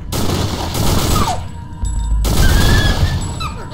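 Video game gunfire crackles in dense bursts, loud and close, with a brief pause in the middle before another volley of shots.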